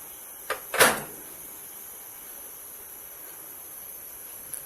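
A microwave oven door shuts with a sharp click and thud, preceded by a lighter knock, during a khichuri recipe in a quiet kitchen with a steady high hiss.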